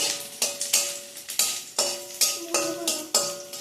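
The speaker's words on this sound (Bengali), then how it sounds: "রসুন কটা ভাজা হয়ে যাবে" Garlic cloves frying in oil in a home kitchen pan, a soft sizzle beneath about nine ringing metallic clinks and scrapes as a spatula stirs the pan in an uneven rhythm, close and clear.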